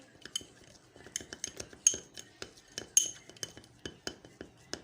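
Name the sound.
mixing baking soda and lemon juice in a bowl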